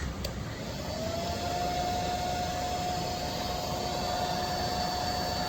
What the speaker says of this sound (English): I'm gonna turn my blow dryer to the low setting